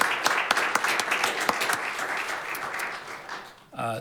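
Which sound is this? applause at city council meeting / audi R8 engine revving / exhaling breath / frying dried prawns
applause at city council meeting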